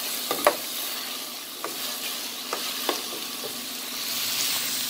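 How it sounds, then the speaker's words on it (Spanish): Two chicken breasts fry in a pan, browning with a soft, steady sizzle and a few sharp crackles and pops scattered across the clip. "Estas son dos pechugas de pollo. Vamos a guisarlas hasta que estén doraditas."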